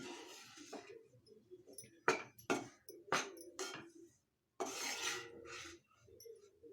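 Besan (gram flour) for laddu being stirred continuously in a pan to break up lumps, giving close scraping and rasping strokes in uneven bursts with short pauses between them.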